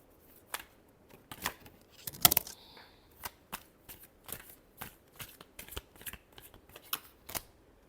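Tarot cards being shuffled by hand in a quiet room, a run of crisp, papery riffles and slaps arriving in quick irregular bursts, one sharper snap near the middle, with no voices.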